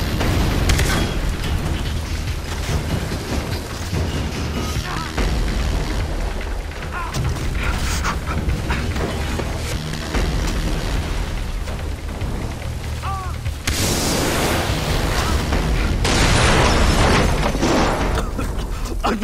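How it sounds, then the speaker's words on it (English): A building collapses amid explosions in Far Cry 3, with heavy rumbling booms, crashing debris and roaring fire, loud and continuous, swelling into a bigger blast near the end. "Oh no, this place is coming down!"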